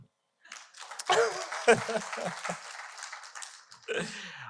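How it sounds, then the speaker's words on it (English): Scattered clapping from a keynote audience at the Nellions tenth-anniversary event, a moderate uneven patter mixed with murmuring and a few voices, easing off and then briefly picking up again. "You can clap."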